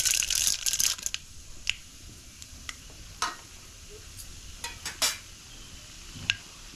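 Mustard seeds and chana dal fry in hot oil, giving scattered sharp pops and crackles over a low sizzle, with a denser spatter at the start and irregular isolated snaps after.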